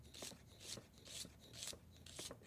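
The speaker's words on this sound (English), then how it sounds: "And then I'm just going to slice this" A knife slices through an onion on a cutting board in five quick, evenly spaced crisp cuts, faint and close, with no talking.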